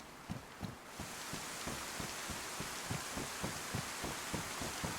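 Steady rain in the survival game DayZ, a continuous wash of hiss with a faint regular low thumping running beneath it throughout, no voices.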